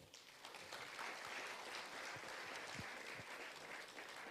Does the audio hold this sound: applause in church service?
yes